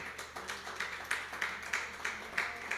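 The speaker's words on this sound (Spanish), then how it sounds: "dale un aplauso al Señor" A church congregation claps in a slow, even rhythm at a distance, faint, regularly spaced beats with no voices over them.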